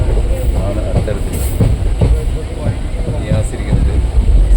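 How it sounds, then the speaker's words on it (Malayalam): Inside a crowded moving passenger train, a steady rumble and rattling wheel clatter run throughout with irregular knocks and a faint high squeal, while people talk over the carriage noise. "അങ്ങനെ ഞങ്ങൾ ട്രെയിനിൽ ഇങ്ങനെ യാത്ര തുടരുകയാണ്."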